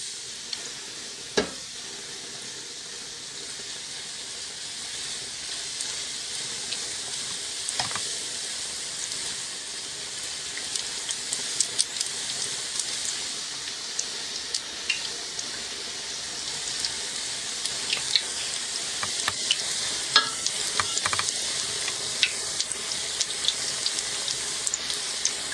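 Battered fish frying in a pan of hot oil gives a steady, close sizzle with scattered crackles and pops throughout, no voices over it.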